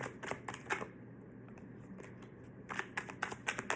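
Quick papery riffles of playing cards in two bursts with a pause between, close and fairly quiet.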